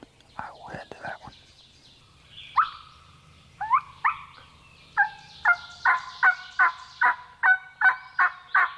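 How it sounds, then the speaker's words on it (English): Wild turkeys gobbling on public hunting land in Tennessee: a few scattered calls at first, then a rapid series of regular, fairly close gobbles that grow more steady toward the end, with quiet whispering underneath. "I just heard one gobble way to the left."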